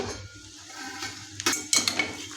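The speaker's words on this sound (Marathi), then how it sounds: "आता याच्यावरचं झाकण काढूया" A lid lifted off a pan of steamed sabudana khichdi, a couple of close metallic clinks and scrapes over a faint background hiss.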